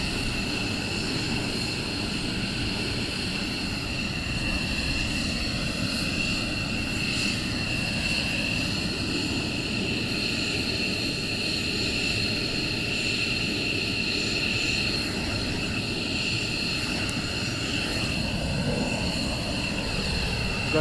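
Military jet aircraft run during a morning surge launch at RAF Lakenheath, a continuous loud engine roar with high turbine whine rising and swelling as they pass at a distance, sustained throughout.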